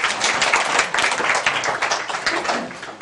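A class audience in a human-centered design course applauds after a student presentation, a dense burst of many hands clapping steadily for a few seconds, close and lively with no talking over it.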